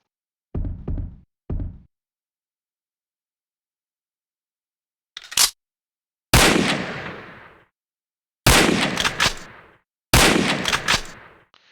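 Rifle shots at a commando sniping training range in a video game: two faint taps early, then a short crack and three loud sharp reports spaced a couple of seconds apart, each with a brief echoing tail.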